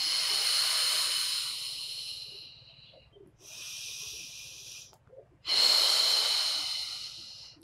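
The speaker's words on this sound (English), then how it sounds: "And in breath. Exhale." Three long, close breaths during Pilates, airy hissing inhales and exhales in a slow rhythm, with quiet gaps between them.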